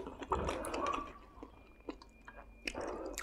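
Crispy fried chicken is eaten close to the microphone, giving soft, irregular crunching and wet chewing bites over a few seconds, fairly quiet, with no talk.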